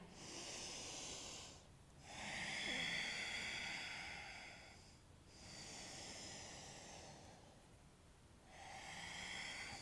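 Slow, deep breathing during an upper-body power yoga session, long hissing inhales and exhales in a steady rhythm with short pauses between them, close and soft.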